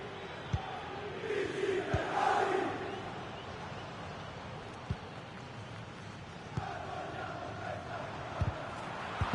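A football stadium crowd at a Napoli Serie A match keeps up a broad, distant roar that swells briefly, with scattered sharp thuds standing out above the sustained noise.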